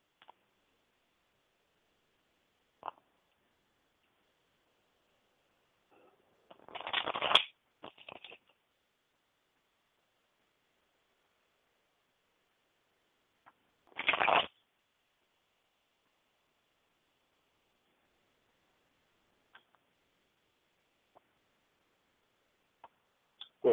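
Cards riffled and shuffled during a tarot-style psychic reading, heard as two short bursts of quick rustling snaps a few seconds apart, separated by near silence with a few faint ticks.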